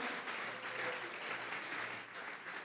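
A church congregation applauds as an offering to God during a Spanish-language sermon on the Holy Spirit, steady dense clapping filling the room at moderate volume without pause.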